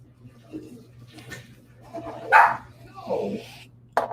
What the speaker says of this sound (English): Puppy dogs be barking.